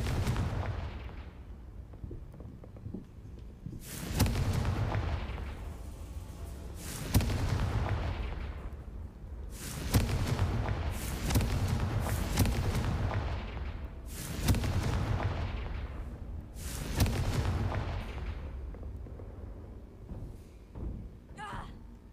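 Fiery Confringo spell explosions in the video game Hogwarts Legacy go off as about six loud, booming blasts in irregular succession, each decaying into a rumbling background din.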